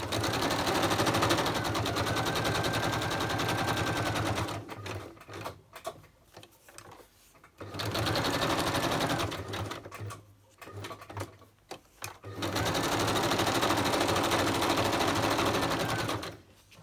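Sewing machine stitching a school design-and-technology project, running in three sustained bursts separated by short pauses and handling noise, steady and close.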